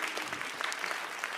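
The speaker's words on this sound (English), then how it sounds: "Give yourselves a round of applause for coming out." A room full of people clapping, dense and steady applause at moderate volume for a short stretch, with no speech over it.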